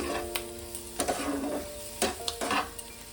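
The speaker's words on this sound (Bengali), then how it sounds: "মশলাটাকে একটু কষিয়ে নেব।" A spice masala with onion is sautéed in a pan for amudi fish curry: several sharp spatula scrapes and clinks over a soft sizzle, with gentle music playing underneath.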